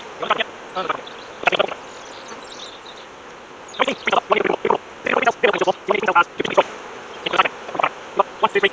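Honey bees hum steadily inside an open hive among nurse bees, brood and queen cells, a dense close buzz pulsing with louder swells as individual bees pass near.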